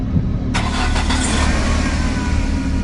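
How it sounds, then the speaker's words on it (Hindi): A car engine cranks and catches, then settles into a steady idle that runs loud and continuous with no voices over it, heard as an effect in a horror story. "उन्होंने गाड़ी स्टार्ट की"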